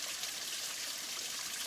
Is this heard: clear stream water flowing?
yes